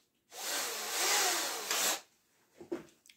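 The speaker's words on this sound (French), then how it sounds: "je vais venir percer" A power drill bores into the ends of wood pieces on a workbench in one whirring burst of about two seconds, close up, followed by a few light knocks and handling noises.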